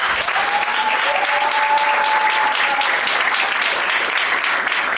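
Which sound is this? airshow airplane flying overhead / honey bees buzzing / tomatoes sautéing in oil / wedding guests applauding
wedding guests applauding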